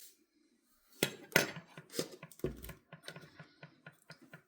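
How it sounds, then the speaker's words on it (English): Dry cookie ingredients, whole wheat flour with baking powder, baking soda and salt, stirred in a bowl, a quick series of close scraping taps and light clinks against the bowl after a brief silence. "And then give it a little stir."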